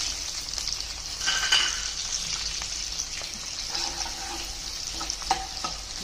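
Green chillies and mustard seeds fry in hot oil in a pan, giving a steady close hiss with a stronger sizzling surge early on, plus faint stirring and a few light metallic taps.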